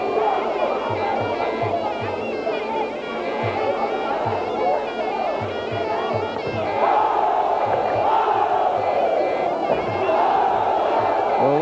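A loud, sustained roar from a large crowd at a Muay Thai bout between Vicharnnoi Sor.Chitlada and Denburi Kiatprapat on Channel 7, with cheers swelling and surging under faint commentary.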